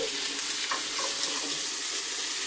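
Farai frying in a pan gives a dense, even sizzle that hisses continuously without pause, close and fairly loud, and no one talks.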